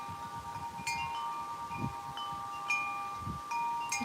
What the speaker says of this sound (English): a little cold and windy.